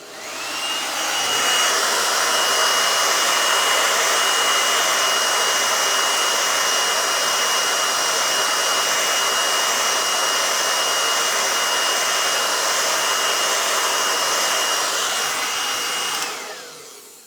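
A hair dryer blows on a fresh first coat of paint on a wooden knife block being painted in a harlequin pattern. It makes a loud, steady whooshing whir that starts after about a second, holds for roughly fifteen seconds and then cuts off, with no talk.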